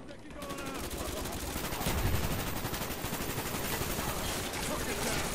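Rapid automatic gunfire from a Call of Duty: Black Ops match on the Silo map, a dense continuous barrage of shots with some voice mixed underneath.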